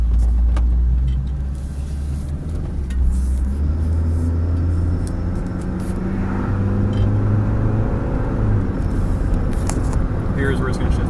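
A Honda Civic with a slipping automatic transmission driving steadily, its engine and road noise droning continuously, with no clearly marked gear change.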